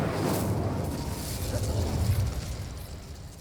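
The Incendio fire spell is cast in the video game Hogwarts Legacy. It makes a rushing, crackling burst of flame that swells and then fades over a few seconds at moderate volume.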